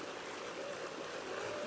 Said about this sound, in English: What nice water.